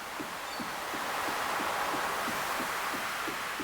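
Steady broadband ocean wave ambience in the farming game Stardew Valley, a continuous soft wash of surf with faint rhythmic low pulses and no talk.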